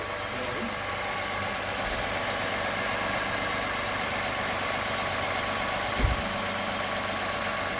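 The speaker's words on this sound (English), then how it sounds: "we're just going to let the engine run for a while" A Toyota Camry engine idles at about 970 rpm with a constant low rumble and hum throughout, with a brief thump near the end.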